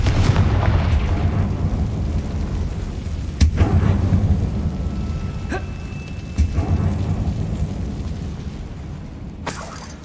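Confringo fire spell in Hogwarts Legacy, cast inside an abandoned mine: low rumbling game audio with a few sharp blasts a few seconds apart, loud and close, no talk over them.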